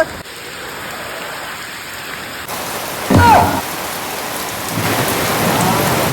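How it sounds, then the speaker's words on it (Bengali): Heavy monsoon rain pours steadily and loudly, with a rumble of thunder breaking in about halfway through, all near and continuous without speech. "বর্ষাকালের বৃষ্টি ভাই"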